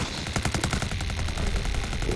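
Rapid automatic gunfire from a Rainbow Six Siege match, a dense stream of loud shots with no pauses, set against game background noise and no talk.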